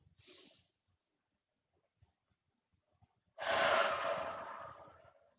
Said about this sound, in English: Big inhale twice.